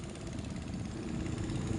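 Motorcycles passing along a road beside houses under a bridge, a continuous low engine drone near and steady throughout with no talk.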